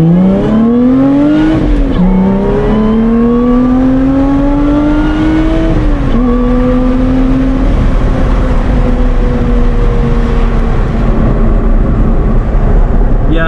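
A 2021 Lotus Evora GT accelerates hard onto a highway, its engine note climbing steadily through the gears with brief dips at each upshift, loud and close from inside the cabin.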